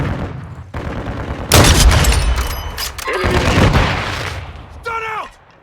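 Call of Duty Modern Warfare 2 combat: a stun grenade bursts with a sharp bang, then bursts of gunfire crack and boom close by, with in-game voices calling out between the shots.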